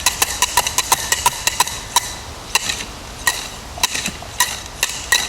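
Sharp metallic taps ring out as a steel probe is hammered down into trench soil at a septic tank installation site, a quick irregular series of close strikes with short pauses between bursts.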